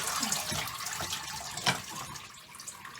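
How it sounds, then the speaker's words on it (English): Dirty water from washing sheep's wool drains away, a moderate splashing, gurgling flow with a few sloshes and drips that gradually quiets toward the end. "So there's some dirty water, which I'm going to drain right now."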